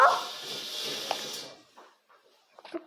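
A dog in the video game Minecraft barks and whimpers close by at the start, followed by a few fainter yips and small noises.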